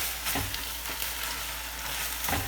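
Spinach wilting and shrinking down in a big pot, giving off a steady broad sizzle with a few soft stirring knocks near the start and end, fairly close and unbroken.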